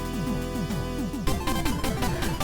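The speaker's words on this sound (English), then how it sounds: "That's a big ol' explosion." Explosions in the video game Blaster Master Zero 2, a dense burst of layered booms and crackling blasts over game music, loud and continuous, intensifying about halfway through.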